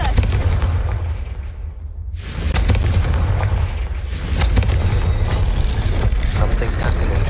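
Confringo blasting spell in the Hogwarts Legacy video game, loud booming explosive bursts with rumbling crackle filling the stretch, one blast near the start and another around two seconds in, with noisy game sound continuing throughout.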